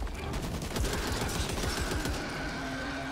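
Dense, continuous automatic gunfire from the shooter game Back 4 Blood, a fast rattling burst of rounds layered over busy game noise and lasting the whole moment.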